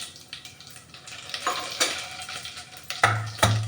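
Cumin and mustard seeds crackle and sizzle in hot oil in a pan, with a few sharp pops and stirring scrapes close by, growing louder toward the end.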